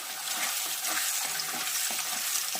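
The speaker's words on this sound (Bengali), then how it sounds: "এভাবে আমি পুরো পনিরটাকেই ভেজে নিচ্ছি" Paneer pieces fry gently over low heat in a pan, giving a dense, even sizzle with soft, regular stirring scrapes beneath it.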